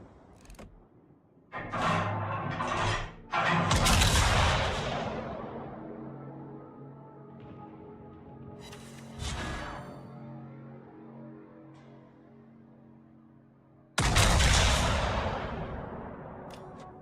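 Heavy naval guns fire in World of Warships in separate booming salvos, each a loud blast that rumbles and trails off, with quieter mechanical whooshes between them.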